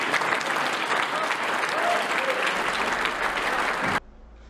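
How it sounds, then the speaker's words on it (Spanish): A crowd at an event applauds a deputy, dense, close clapping lasting about four seconds before cutting off abruptly to near silence. "Un gran aplauso a la diputada,"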